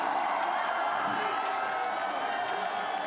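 An appreciative crowd at an Olympic cross-country skiing finish keeps up a steady roar of cheering and whooping in sunshine. A commentator's voice runs over it throughout.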